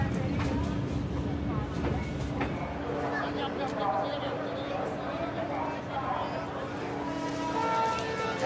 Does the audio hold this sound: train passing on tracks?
yes